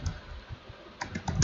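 Someone types on a computer keyboard while entering text in an Excel cell. A quiet spread of key clicks gathers into a quicker, denser burst toward the end, with no talking.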